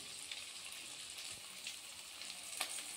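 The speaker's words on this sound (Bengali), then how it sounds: "আমি ভাজছি মাগুর মাছ" Pieces of magur catfish coated in salt and turmeric fry in oil in a wok, a steady soft sizzle with faint crackles and pops, close but quiet.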